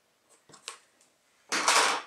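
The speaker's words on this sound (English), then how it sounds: "Get some scissors and slit the two ends so it doesn't crinkle up." Scissors snip a few quick, light clicks while slitting the ends of tape on a bottle rocket fin, then a louder burst of crinkly rustling from the tape; no voices.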